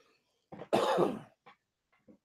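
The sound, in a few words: coughing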